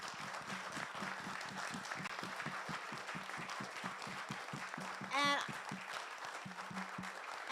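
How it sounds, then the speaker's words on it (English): Sustained audience applause for panelists after a community event on Black men's emotional wellness, steady dense clapping with a brief louder cheer or whistle partway through. "So I want to give our panelists a round of applause."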